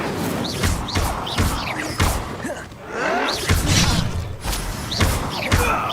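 Incendio fire spell in Hogwarts Legacy: a string of sharp magical whooshes and heavy thuds in fast succession, with bright flaring bursts and a rushing swell midway, loud and close amid combat.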